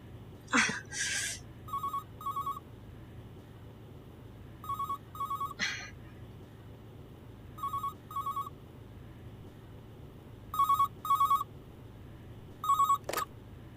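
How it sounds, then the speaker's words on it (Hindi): A phone rings in paired electronic trills, repeating several times at regular intervals, with a few brief clicks and rustles in between. "इस टाइम पे कौन फोन कर रहा है?"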